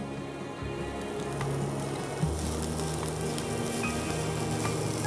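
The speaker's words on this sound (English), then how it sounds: "as we wait for our onions to become light brown" Onions fry in a pan with a pinch of salt, a dense, steady sizzle and crackle close by with a faint hum underneath, and no voices.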